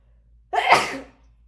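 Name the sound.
sneeze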